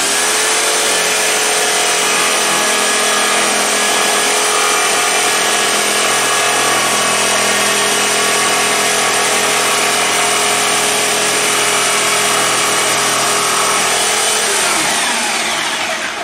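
A Lidl Parkside PSTK 800-B2 800-watt jigsaw cuts steadily, its loud, continuous buzzing whine running unbroken for about fifteen seconds before winding down at the end, with no voices.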